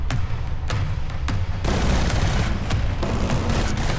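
Rapid bursts of gunfire ring out in the PS4 shooter Killzone Shadow Fall, with sharp isolated shots giving way to a loud, sustained volley of fire and heavy booms.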